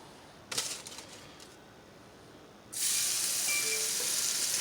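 A whole fish drops into hot canola oil, olive oil and butter in a pan, bursting into a loud, steady sizzle after a quieter stretch with a few earlier spatters.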